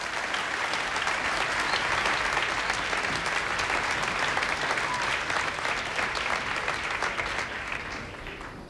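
Sustained applause from a TV studio audience at the live launch of a Greek reality show, dense and steady throughout before tapering slightly at the end.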